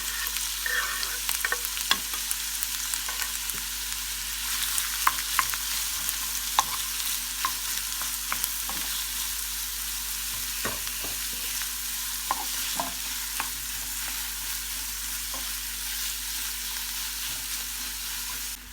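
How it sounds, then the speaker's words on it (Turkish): Finely chopped onions fry in oil in a pan, giving a steady, close sizzle throughout with scattered stirring clicks and scrapes as the pieces are moved around, and no voices. "İçerisine ince kıydığımız soğanları ilave edip kavuralım"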